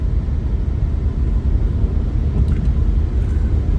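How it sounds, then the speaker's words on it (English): A Toyota Corolla E110 engine with an exhaust leak runs steadily for a few seconds, a continuous low rumble close by with no talking. "You might be able to hear the exhaust leak."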